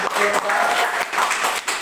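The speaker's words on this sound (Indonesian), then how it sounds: "Tepuk tangan dulu dong buat kampus kita." Applause from an audience at a polytechnic campus event, a steady broad wash of clapping filling the whole moment at moderate loudness.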